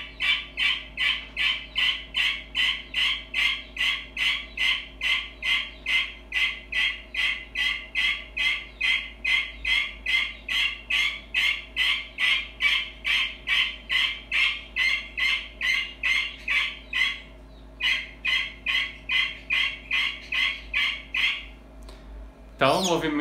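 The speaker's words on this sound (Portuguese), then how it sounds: "deixa eu só devolver a angola lá que ela tá gritando bastante" A guinea fowl calls loudly and close by in a rapid, evenly spaced series of harsh, repeated cries that continue steadily, then break off briefly near the end.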